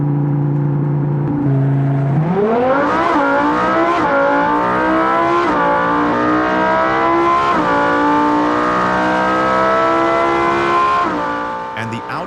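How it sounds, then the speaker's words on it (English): An all-wheel-drive Audi R8 supercar roars loudly as it launches and accelerates hard, the engine climbing through several gear changes with brief dips in pitch between them, then easing off at the end. "Now for the Audi R8. It has all-wheel drive, so it should have no problem putting its power onto the road."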